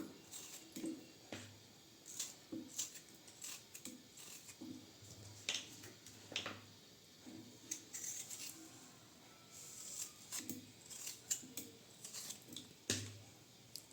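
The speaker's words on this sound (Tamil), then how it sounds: "முருங்கைக்காயை இந்த மாதிரி சின்ன சின்ன பீசஸாக கட் பண்ணிக்கோங்க" Drumstick vegetable is chopped into small pieces for a lentil sambar, giving irregular, crisp cutting clicks and soft thuds close by, spaced unevenly across the stretch with quiet gaps between.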